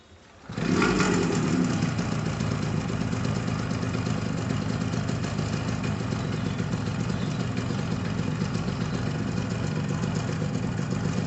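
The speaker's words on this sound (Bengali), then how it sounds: "আমি আপনার গাড়িটা স্টার্ট করে ইঞ্জিন সাউন্ড একটু শোনাই" Motorcycle engine starting up and settling into a steady idle, a loud, even mechanical rumble with light clatter that runs unbroken after the first second.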